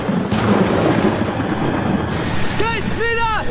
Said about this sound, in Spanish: ¡Es la tormenta!